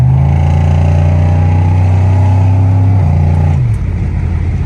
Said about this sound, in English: Let me give you a quick little second gear ripper.